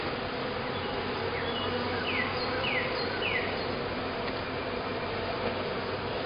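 Honey bees from a swarm buzz steadily during a hive inspection, a dense, continuous drone close to the open boxes with a few individual bees zipping past, no voices.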